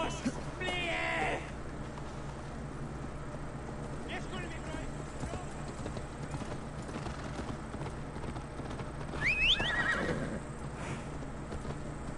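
In the video game Assassin's Creed Valhalla, a horse whinnies and its hooves clip-clop under a constant bed of game ambience, with a second neigh later on and in-game voices talking throughout.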